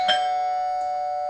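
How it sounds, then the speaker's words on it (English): An alert bell in the TD Snap communication app rings once as a clear electronic chime, its tone sustained and ringing steadily through to the end, alone without any talking. "I added an alert bell."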